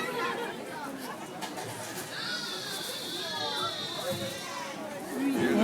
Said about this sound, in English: If you listen carefully, you might have a chance to hear some of the sounds our whales can make.